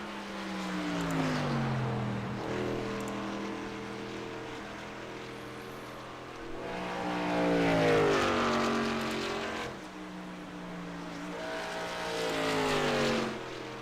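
Race cars lapping Indianapolis Motor Speedway, the Brickyard, in a racing video game: engine drones that swell and fade as cars pass, with overlapping rising and falling pitches and no voices.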